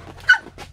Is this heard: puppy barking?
yes